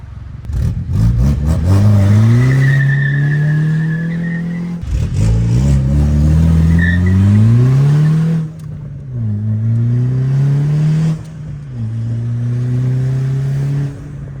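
A turbocharged Mini Cooper running only a downpipe revs loudly and aggressively, rising and falling in several long pulls with a raspy, unmuffled roar close by.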